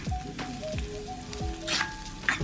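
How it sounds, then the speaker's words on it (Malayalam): Green chillies sizzle and fry steadily in an oiled pan for a beef curry, a continuous crackling hiss with occasional sharper spits and a few soft stirring scrapes, close and fairly loud with no talking. "നന്നായിട്ട് വഴറ്റി കൊടുക്കാം."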